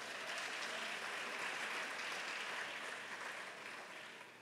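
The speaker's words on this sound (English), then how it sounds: "Please give a round of applause for James Jazzy Hughes" Audience at a senior women's pageant applauding a judge, a dense, sustained clapping from a full room that slowly tapers in the final seconds.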